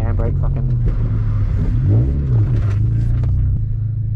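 A Honda Jazz rallycross car roars through a handbrake turn on a loose course, its engine loud and rumbling with a rising and falling rev in the middle, under constant close talk.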